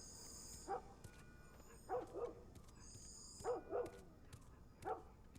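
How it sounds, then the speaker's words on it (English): A dog barks a few times in the background, short faint bow-wow bursts spaced apart, with a high electronic tone hovering over a quiet room. "you heard the dog in the background"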